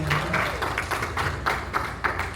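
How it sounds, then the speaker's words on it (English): An audience at a community health fair applauds a speaker. Dense clapping rises and falls in steady pulses from a moderately close crowd. "Let's give a round of applause to our phenomenal Kelsey"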